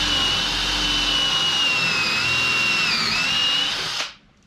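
A power drill bores pocket holes in wood down to the collar stop, a steady high-pitched whine that dips slightly near the end before the motor cuts off abruptly, close and loud with no talk.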